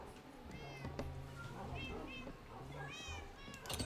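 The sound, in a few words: cats meowing in Minecraft video game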